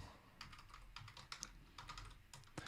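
Python code being typed on a computer keyboard: quiet, steady clusters of key clicks in irregular bursts, with no talking over them.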